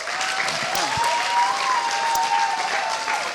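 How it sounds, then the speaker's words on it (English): An audience at a games development presentation breaks into steady applause, a dense even patter of clapping that holds at moderate volume throughout. "let's give a round of applause."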